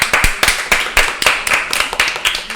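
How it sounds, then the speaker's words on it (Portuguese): Scattered hand clapping from a small group, irregular and fairly close, with no voices over it. "Uma salva de palmas pra eles"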